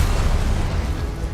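A repulsor spell goes off in Hogwarts Legacy as one loud, dense blast. The deep rumbling whoosh fills the whole moment at close range.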